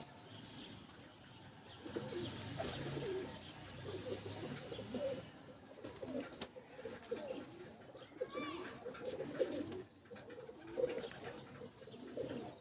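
Pigeons held in the hands on a rooftop coo softly in low, repeated warbling calls, with faint chirps and rustling in the background; fairly quiet and close.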